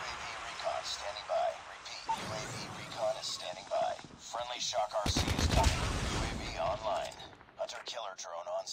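Rapid bursts of gunfire from the mobile shooter game Call of Duty: Mobile in a ranked match, with loud sustained automatic firing in the middle and scattered shots elsewhere, under game announcer audio and a player talking.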